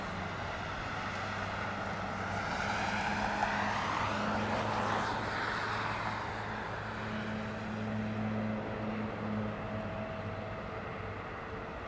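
An Airbus A350 XWB jet engine spooling up during start-up at Heathrow Airport, a steady loud whine and roar with sustained low tones heard from a distance, finishing with a slight burble.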